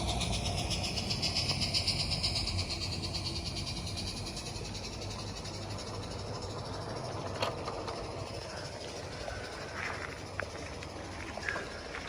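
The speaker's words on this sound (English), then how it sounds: "we've attracted people that want to come see the train, and they're super excited to see it running" A small radio-controlled live steam train runs steadily outdoors with a chuffing, clattering rumble, a few sharp clicks and knocks near the end, no voices.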